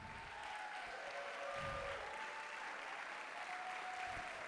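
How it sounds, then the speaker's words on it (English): A concert audience applauds an intermediate middle school band at a holiday band concert, with steady sustained clapping from a large crowd filling the hall throughout, moderately loud with no speech over it. "Round of applause for our intermediate band."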